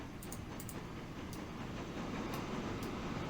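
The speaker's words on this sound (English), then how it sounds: "Is this a planks train coming the other way?" Planks freight train passing in the Transport Fever 2 game, a faint steady rumble of wagons rolling by with a few light clicks, swelling slightly toward the end.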